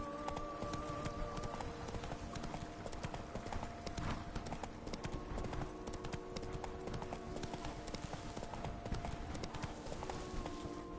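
Roach the horse trotting in Witcher 3: Blood and Wine, a steady rapid clip-clop of hooves running continuously and evenly loud, layered over game ambience and a dense wash of background sound.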